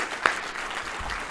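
Audience applause at a Baltimore community ceremony, a short stretch of soft, scattered clapping with one sharper clap near the start.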